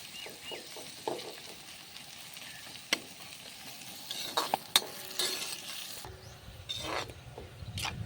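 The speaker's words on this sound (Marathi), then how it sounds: "या पद्धतीने आपण कांदा ब्राऊन करून घ्यायचा आहे." Finely chopped onions fry and brown in a pan, a soft steady sizzle broken by sharp clinks and scrapes of a spatula stirring against the metal, close and moderately quiet with no talking.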